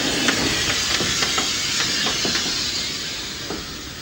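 A 140-ton steam locomotive running, heard from the footplate: a steady broadband hiss of steam with sharp, irregular clanks and knocks close by, no voices.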